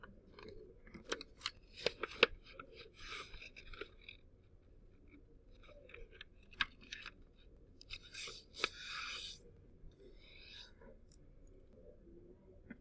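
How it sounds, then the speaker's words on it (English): A sheet of paper folded in half for a classroom foldable, with close, faint crinkling, creasing and sharp paper snaps scattered through the quiet. "So, first up, I need to fold it in half"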